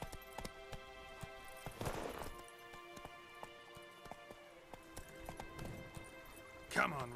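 Roach the horse gallops in The Witcher 3, a steady clip-clop of hooves over layered game music, with a louder burst of movement near the start and another near the end.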